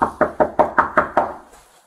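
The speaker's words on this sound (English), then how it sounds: "how would you know we're knocking on the door?" A fist knocks on a door in a quick even series of seven solid, hollow raps, close and loud, the last ones trailing off, with no speech over them.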